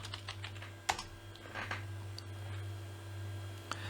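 Quiet keystrokes on a computer keyboard while renaming an object in Blender, a short irregular burst of soft clicks with a few sharper taps over a low steady electrical hum.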